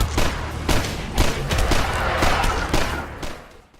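Rapid crossbow shots from the DUSK video game, a quick series of loud punchy thuds and cracks at an uneven pace, close and dense, fading out at the end with no voices.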